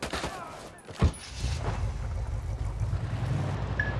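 Rapid bursts of video game gunfire crack out during a military firefight, with a sharp close shot followed by sustained rattling fire and rumbling background noise.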